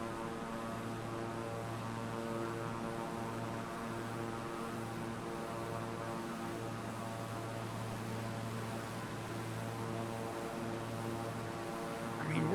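Propeller plane flying low in a flight simulator on PS5, a steady droning engine hum with constant harmonic tones holding evenly throughout, no voices.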